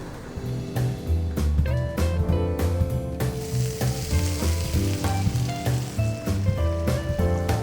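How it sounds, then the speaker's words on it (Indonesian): Water goes into a hot pan for Lontong Balap broth, setting off loud, continuous sizzling and bubbling with rhythmic stirring clatter throughout. "Kita sudah bisa mulai masukkan airnya."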